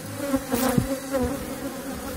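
Bees swarm and buzz around a beekeeper in a protective suit while honey is harvested straight from the hive box, a dense, close, continuous drone with no talking.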